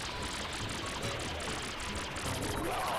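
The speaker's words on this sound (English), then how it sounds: "get some more water so you can spray water on the water." Water sprays steadily from a water nozzle in the Super Mario Sunshine video game, making a continuous hissing, rushing stream with faint rhythmic pulses. It stays even and unbroken throughout, with no voices.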